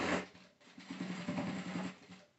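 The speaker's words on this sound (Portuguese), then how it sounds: "Pelo direito aqui, eu faço a costurinha por cima" A sewing machine runs in a steady, fast, close whirring burst as it stitches a topstitched seam across patchwork fabric scraps for a large tote bag, then slows and stops.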